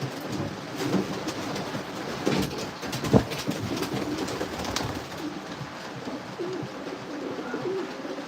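Racing pigeons coo inside a breeder loft on a rainy day, soft repeated throaty calls scattered among faint rustling and shuffling, fairly quiet and close, with no speech.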